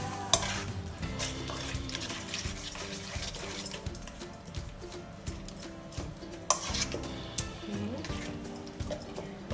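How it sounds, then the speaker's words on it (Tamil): Ingredients for a Thai grilled chicken marinade get stirred and scraped together in a bowl, with uneven clattering and wet mixing sounds close by. A voice talks over it. "இப்போ நம்ம இதெல்லாத்தையும் மிக்ஸ் பண்ணுறோம்."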